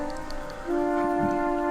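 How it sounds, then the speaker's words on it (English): Two alto flutes play together in a sustained, layered tone over a Fender Rhodes bed, the notes held steady and swelling slightly louder partway through, with no voices. "This is the sound of the two alto flutes together."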